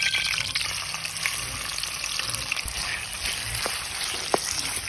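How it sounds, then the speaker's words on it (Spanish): Chicken pieces fry in hot sizzling lard inside a black cooking pot, a loud continuous crackle and hiss close by with occasional sharp pops, no talking. "Ya la manteca está chillando, vamos a echarle el pollo"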